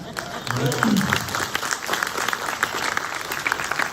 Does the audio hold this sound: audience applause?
yes